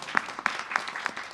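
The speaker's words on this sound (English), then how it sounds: "Give them a round of applause, please." Audience applause at a Sunday morning satsang gathering, a brief spell of scattered, fairly close claps at an uneven pace, with no talking over it.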